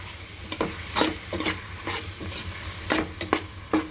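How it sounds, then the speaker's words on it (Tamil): Ginger garlic paste with chopped tomatoes sautéed in a pan, the spoon scraping and stirring in repeated bursts over a steady low sizzle, close and with no talk. "இஞ்சி பூண்டு பேஸ்ட் வதங்கிச்சு. தக்காளி போட்டுக்கோ."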